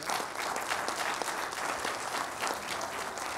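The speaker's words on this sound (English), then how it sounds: "let's give another big round of applause" A round of applause from the audience at a New York City Council district event on the Upper East Side, a steady, even crackle of many hands clapping with no one talking.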